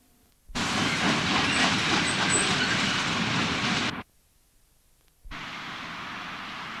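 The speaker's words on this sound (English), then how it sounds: "The empty tanks, bound for the cement works at Hope, head under the Sheffield Parkway and pass Nunnery Junction." An empty freight train of cement tank wagons bound for the cement works at Hope passes near Nunnery Junction in Sheffield. A loud rushing rumble starts abruptly, holds for about three seconds, cuts out, then returns at a lower level.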